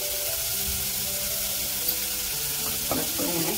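Onion, green chili and a pinch of asafoetida fry in a pan for a broccoli sabji, giving a steady close sizzle with a brief stirring scrape near the end, no talking.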